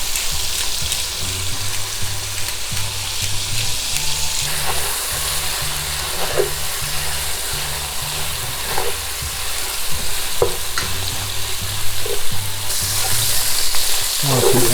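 Pork butt and pork belly, seasoned with salt and black pepper, sear in a hot pan with a steady loud sizzle and crackle. Occasional stirring and scraping clicks sound close by, and nobody speaks.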